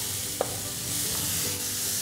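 Dal is stirred into hot fat in a pan for a Bengali cholar dal with turmeric, giving a steady soft sizzle with a brief scrape of the spoon near the start and no talk.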